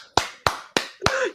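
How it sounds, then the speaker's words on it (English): A few sharp, separate claps close to the microphone, about four evenly spaced hits, the last followed by a brief voice, on a casual wrestling talk show. "One round of applause."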